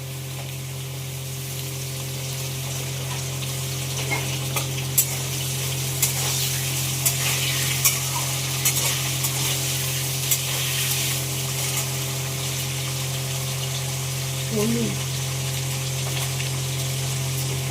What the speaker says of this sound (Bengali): আলু সব ভেজে নেবো